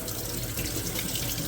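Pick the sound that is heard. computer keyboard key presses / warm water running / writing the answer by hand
warm water running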